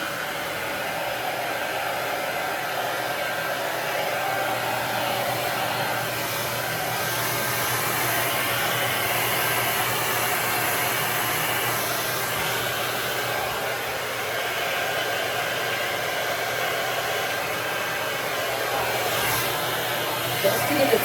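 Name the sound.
blow dryer drying curly hair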